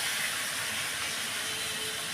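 Potato pieces dropped into hot spiced oil in a pan release a steady, dense, loud sizzle with a broad hiss that holds evenly throughout, with no voices.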